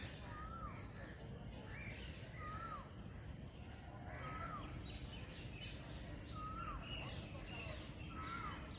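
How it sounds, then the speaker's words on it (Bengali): A flock of crows caws repeatedly outdoors, the harsh calls coming in a loose, irregular series at moderate distance over a constant background hiss. "অজস্র পাখি,"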